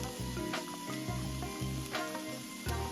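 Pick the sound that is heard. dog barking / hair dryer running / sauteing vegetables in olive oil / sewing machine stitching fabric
sauteing vegetables in olive oil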